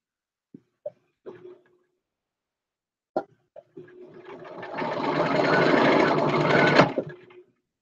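A domestic sewing machine doing free-motion quilting runs in one continuous burst of a few seconds that builds up, holds steady and then stops, after a few soft clicks and small handling noises.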